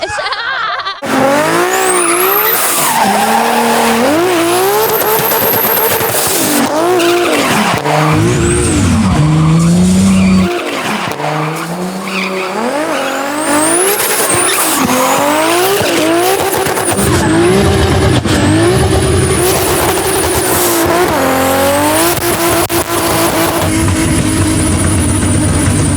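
Burnouts from a twin-turbo 1000 hp Mustang GT and a 900 hp 2JZ-swapped BMW E92: engines roar and rev in rising and falling sweeps while tires squeal and skid continuously, loud and close, with occasional voices underneath.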